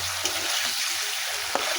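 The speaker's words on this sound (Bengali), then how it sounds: "মাছগুলো আমি কষে নিচ্ছি" Hilsa fish pieces, some with roe, sauté in hot oil in a pan, giving a close, steady sizzle with a couple of light scraping knocks from stirring and no speech.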